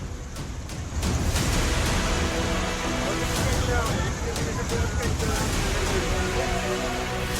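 Heavy rain pours during flooding in Mumbai's Andheri West, with Veera Desai Road streets underwater. It makes a loud, dense, continuous hiss and rush that swells slightly after the first second and then holds steady throughout.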